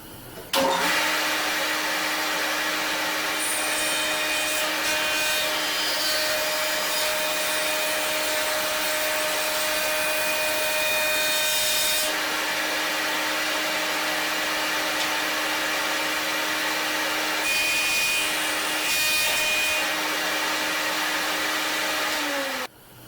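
A woodworking saw blade spins with a steady, loud motor whine and hum as a small piece of wood is fed through using a push block, the cut adding rougher bursts over the continuous drone.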